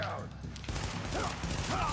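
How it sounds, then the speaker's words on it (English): Gunfire bursts in Tom Clancy's The Division, a shotgun among them, crackling continuously through a dense mix of game noise with a voice talking over it. "we got Ballsy McGee over here with his shotgun"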